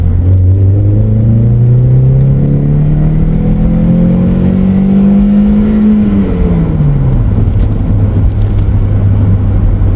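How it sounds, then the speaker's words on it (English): A Toyota MR2 Spyder with an aftermarket exhaust is pulling hard in second gear, its engine drone rising steadily in pitch, then dropping as the throttle lifts, heard loud and close from inside the car with no talk. "So we'll do a little second gear pull."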